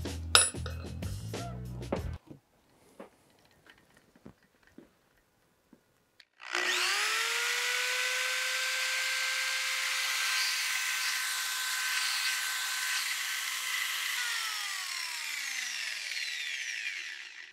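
An old drill converted into a saw with an arbor nut whirs up in a test run after some light handling clatter, a loud steady high-pitched spinning whine that holds then begins winding down near the end.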